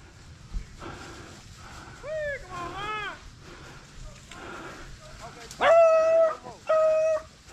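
A hunting dog on a rabbit hunt bays and howls in drawn-out, wavering calls, with a few sharp yips and a longer rising howl near the end, fairly close by.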